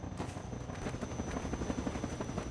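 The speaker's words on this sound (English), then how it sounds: "Combine attack helicopter" The Combine attack helicopter from the video game Half-Life 2 hovers nearby, its rotor beating in a rapid steady thump with a thin high whine running throughout, fairly quiet.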